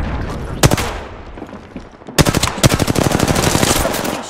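Automatic weapons fire in the Apex Legends battle royale game: a single loud burst near the start, a brief lull, then sustained rapid-fire bursts of gunshots that run close and loud to the end.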